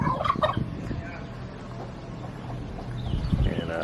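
Turkeys gobble on a family farm among other fowl, a few bursts up close near the start and again at the end over steady outdoor background.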